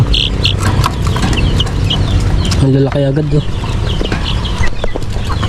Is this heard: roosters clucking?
yes